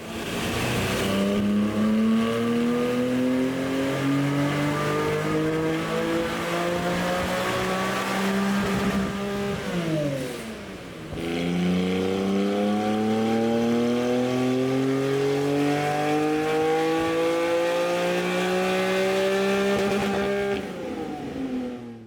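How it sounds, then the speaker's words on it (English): A Porsche GT4 with a remapped engine revs on a dyno run in two long, loud, climbing pulls of about ten seconds each, with a brief drop between them and no talk. "So we've just finished the final dyno run"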